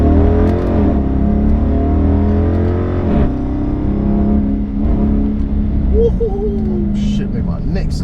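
A straight-piped 2022 Chrysler 300 S revs and accelerates hard in first gear, its loud droning exhaust rising in pitch from inside the cabin while people talk over it.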